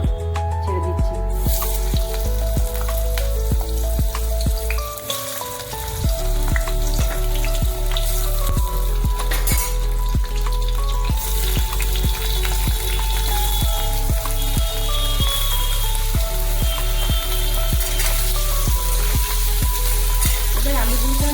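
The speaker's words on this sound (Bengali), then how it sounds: "এবার আলুগুলোকে আমি ভালো করে ভাজছি।" Potatoes fry in hot oil for an aloo korma, a loud continuous sizzle close by with repeated scraping and stirring clicks and a steady crackling bed throughout, with no voices.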